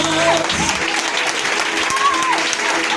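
A church congregation claps together during a worship service, a dense steady wash of applause lasting a few seconds with voices and singing mixed underneath.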